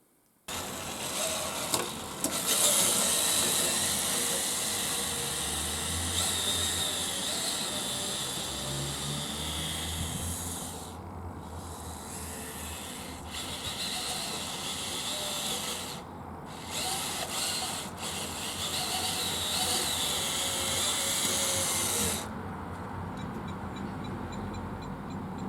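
A Tamiya GF01-FT radio-controlled car drives up a garden path outdoors, its electric motor giving a steady high-pitched whine with surging revs and brief dips, close and fairly loud throughout.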